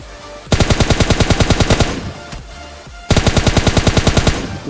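Two loud bursts of rapid automatic gunfire from a shooter video game, each a fast, evenly spaced string of shots with a short lull between, heard alone without talk.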